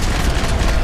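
Dense, loud burst of gunshots in Max Payne 3, a sustained roar of overlapping shots packed into under a second.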